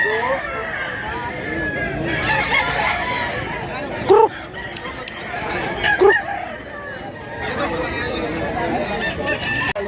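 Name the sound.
rooster crowing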